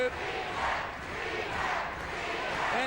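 Wrestling arena crowd roaring and cheering, a steady wash of massed voices with a commentator talking faintly over it.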